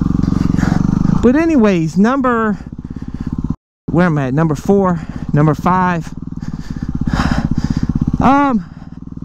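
Dual sport motorcycle ridden off-road, its engine droning steadily up close throughout with revving swells, while a rider talks over it and whoops.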